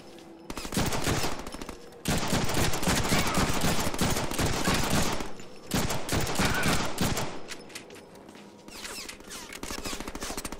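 Rapid bursts of automatic gunfire in the Deadpool video game, dense rattling volleys that fill most of the stretch with short pauses between bursts, loud and close.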